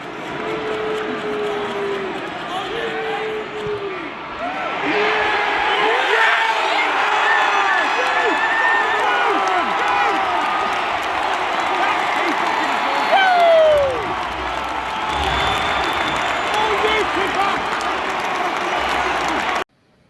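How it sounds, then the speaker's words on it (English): A stadium crowd at an AFL finals match between Carlton and Sydney erupts after a goal, a sustained roar of cheering and applause over about fifteen seconds with voices talking over it. "where the whole stadium, I think even the Sydney supporters were cheering. Everyone erupted, and that was loud."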